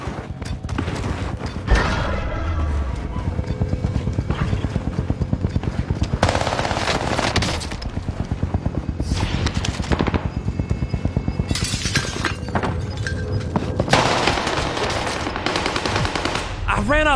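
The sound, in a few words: gunfire from a video game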